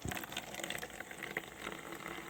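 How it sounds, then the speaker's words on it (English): Clearly Canadian sparkling water, Mountain Blackberry flavour, poured from a freshly opened bottle into a glass, a soft close fizzing splash with bubbly crackle, quiet and brief with no voices. "let's pour this delicious beverage in and try it out and see how it tastes."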